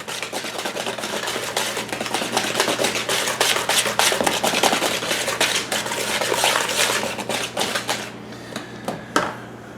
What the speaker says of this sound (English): Now I'm using a whisk to mix the eggs and the sugar and the butter and the vanilla.